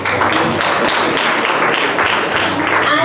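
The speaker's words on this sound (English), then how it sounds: "Can we have a huge round of applause," A Rotary club installation ceremony audience breaks into loud, steady applause, a thick continuous wash of clapping that stays strong throughout, with some voices mixed in.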